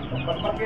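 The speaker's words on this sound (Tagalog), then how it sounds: "dito meron pa dito mga nokis, oh. Mga sisiw." Chickens and young chicks cluck in a rooftop coop, a short, dense burst of close, busy fowl calls with faint voices underneath.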